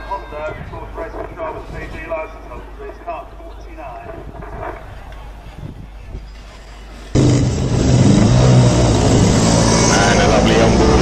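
Race cars on a formation lap at Camberley, heard from an onboard view behind the leader, with low broadband engine and wind roar that jumps sharply louder partway through and stays steady, under earlier commentary.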